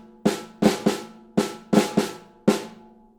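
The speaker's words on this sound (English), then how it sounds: "just the flams on the snare, sounds like this" Flams played on a snare drum ring out clearly and close, about six sharp doubled strokes in a syncopated pattern with short ringing decays and no talk.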